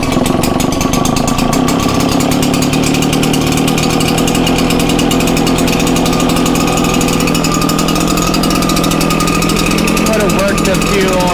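RedMax 8550 engine with a stuck throttle running steadily and loud nearby, a rough, buzzing two-stroke drone warming up for over ten seconds with no letup.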